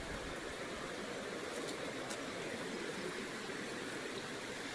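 Creek water flowing in a wooded Coosa County, Alabama wilderness: a soft, steady rushing burble, faint and continuous, with no voices.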